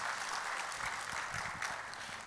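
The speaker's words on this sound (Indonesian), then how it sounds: "Berikan tepuk tangan dulu buat Allah kita." Dense, continuous applause fills a church as the congregation claps during a Sunday sermon, a steady wash of many hands at moderate distance.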